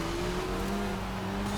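A Ferrari 360 engine roars past during a road race in Forza Horizon 5, a steady, sustained engine drone with a tonal whine, moderately loud and without speech.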